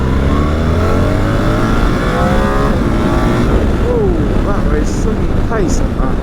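A BMW R1300 GS motorcycle pulls hard in second gear, its engine note rising steadily from the rider's perspective with constant wind roar over it.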